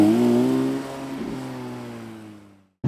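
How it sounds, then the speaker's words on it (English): Engine of a 2023 Porsche 911 GT3 Touring revs loudly and then settles, the note holding steady before fading out near the end and giving way to a short, sharp sound. "go for an on-throttle spin in this 911 GT3 Touring"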